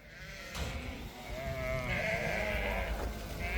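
Several Karaman sheep, a flock of about 130, bleat in wavering, overlapping calls over a steady outdoor murmur, with the loudest cries coming from close by.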